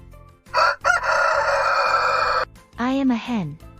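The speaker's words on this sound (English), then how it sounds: "I am a hen. I like to cluck and talk, peck for food, and love to lay eggs." A hen on a farm calls loudly up close: a long drawn-out cry followed by two short clucks, with no other sound around them.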